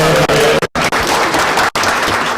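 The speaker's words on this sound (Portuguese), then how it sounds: "Palmas pro Juliano" A short burst of close, loud clapping from a small group at a hackathon event, breaking off in two sudden cuts before picking back up, with no talking.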